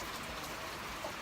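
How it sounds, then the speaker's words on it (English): Steady rain falls outdoors on a farm, a soft, even hiss of drops on surfaces with no voices over it. "It's raining pretty good out there."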